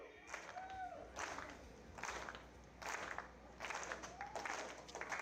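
Crowd applause at an outdoor athletics track meet at Oleai Sports Complex, bursts of rhythmic clapping swelling and fading roughly once a second, moderately distant, with a faint announcer voice in the background.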